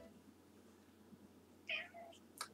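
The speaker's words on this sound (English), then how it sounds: "Happy cat. He's happy and home." A cat in the video game .hack//G.U. Last Recode gives a few short, high meows in quick succession near the end, over a low, steady background hum.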